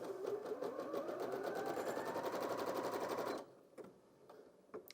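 A Janome DKS30 sewing machine runs a wide zigzag stitch in a fast, even mechanical chatter for a few seconds, then stops abruptly, followed by a few quieter clicks and taps.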